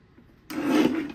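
A paper trimmer blade slides through a card panel in one smooth, close rasping stroke that begins abruptly after near silence and fades out about half a second later.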